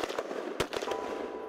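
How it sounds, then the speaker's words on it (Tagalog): Sharp explosive bangs of war in a film, several quick cracking blasts in irregular succession, fairly loud against a dense rumbling background. "Hanggang marinig ang unang pagsabog dulot ng gera."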